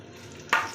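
Whole spices dropped into hot oil left over from frying eggs, bursting into a sudden sharp sizzle after a quiet moment.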